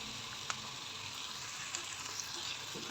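Vegetable macaroni with ketchup, vinegar, black soy sauce and chili sauce is stirred as it fries in a pan, giving a soft, continuous sizzle with faint occasional clicks from the utensil.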